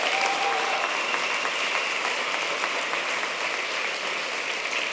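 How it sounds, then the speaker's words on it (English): A conference audience at DNX Global 2015 applauds the organizers, a dense, steady wash of many hands clapping that holds at full strength for the whole stretch, with no voices over it. "Can we just get a quick round of applause for Felicia and Marcus"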